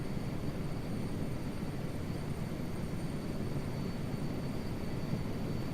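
A helicopter flies in Microsoft Flight Simulator 2024, giving a steady, unbroken drone of rotor and turbine noise that holds at an even level throughout, with no voices over it.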